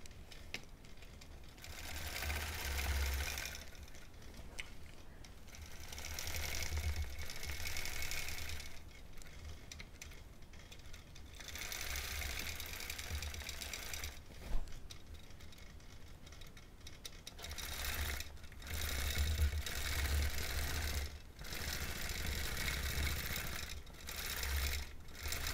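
A sewing machine quilts a small mini quilt along a long undulating curved stitching path, its fast whirring stitches running in bursts separated by short pauses, close and clear with no talking.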